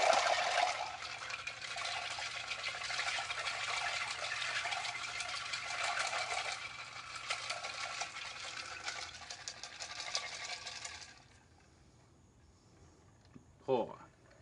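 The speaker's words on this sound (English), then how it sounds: "Once again we shake it." A cocktail shaker with ice, shaken hard for about eleven seconds in a dense, continuous rattling that stops abruptly, followed by near quiet and a brief clink near the end.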